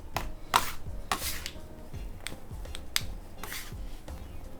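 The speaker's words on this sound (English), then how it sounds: "Scrape up any bits that are stuck to the counter" A bench scraper scrapes and taps against a kitchen counter while folding doughnut dough, producing a series of sharp, close scraping strokes and knocks at an irregular rhythm in a quiet room.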